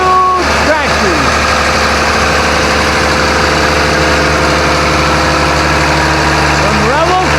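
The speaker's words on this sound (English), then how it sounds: "And this is what farming looks like now. These huge tractors." Huge modern farm tractors idle at a 150th anniversary parade in Fort Kent, giving a loud, steady diesel drone with a deep, even rumble that holds for the whole stretch, close by and uninterrupted.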